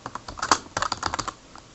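Brief burst of typing on a computer keyboard, a quick irregular run of close, crisp key clicks lasting under two seconds, with no speech.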